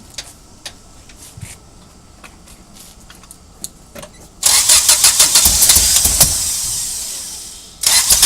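A car engine cranks and fires up, then runs loud and rough with spark plug wires put back on in the wrong order, misfiring in an uneven chug for a few seconds before cutting off, after soft clicks and ticks at the start.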